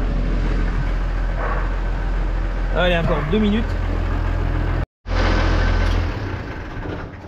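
A farm tractor engine idles steadily to warm up, a low, constant rumble close by, briefly cut out at one point, with someone talking over it.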